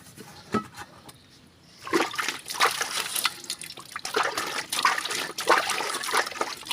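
Pots and vessels are washed under running water, with splashing and trickling that starts soft and sparse, then turns into busy, close sloshing and clattering bursts after about two seconds. No one speaks.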